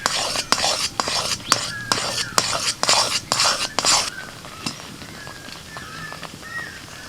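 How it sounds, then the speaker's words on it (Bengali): Boiled mung dal being stirred in a pan to dry it, a spoon scraping and clinking against the metal in quick repeated strokes, then quieter light scraping with soft sizzling underneath. "এবার নাড়াচাড়া করতে করতে ডালটাকে আমি শুকিয়ে নেব।"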